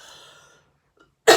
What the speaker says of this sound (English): I'm sorry, I have a cough.